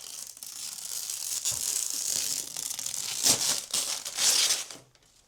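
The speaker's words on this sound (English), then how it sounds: "Let's do the final peel." Protective plastic film is peeled off a new MSI gaming PC case, giving a steady crinkling, tearing rustle close up that swells near the end and then stops.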